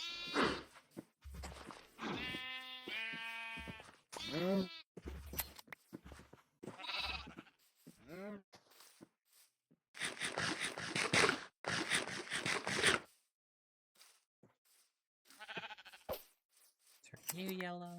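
Sheep in the video game Minecraft bleat repeatedly in short, wavering calls spread across the stretch, interleaved with bursts of hissy game noise and brief pauses, close and clear.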